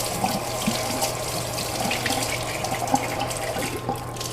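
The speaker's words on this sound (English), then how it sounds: "turn on the water, and I have my little brush," Tap water runs steadily into a kitchen sink while sweet potatoes are washed and scrubbed with a small brush, a continuous close splashing stream with faint clinks and no talk.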